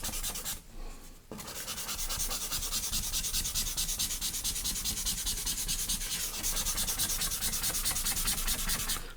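Steady, continuous scraping rub of charcoal being worked and blended across paper, close and even, with a brief pause near the start and no talk.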